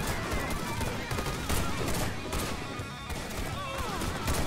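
Gunfire in the video game Warface, bursts of automatic shots and rapid volleys crackling continuously at moderate volume, with a player's voice talking over them.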